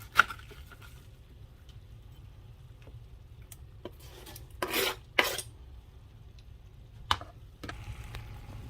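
Cabbage and hamburger meat stirred in a pot, with scattered scraping and rubbing strokes and occasional sharper knocks of a utensil against the pot over a low background hum, no speech.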